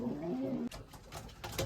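Male racing pigeons in molting season cooing in a loft, a few soft low throaty coos, followed by rustling and shuffling noises.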